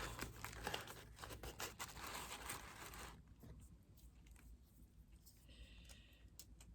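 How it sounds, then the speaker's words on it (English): Tape being torn off a roll for a cardboard portrait: a few seconds of close crinkling and tearing, then quieter small ticks and handling noises. "Take a little tape."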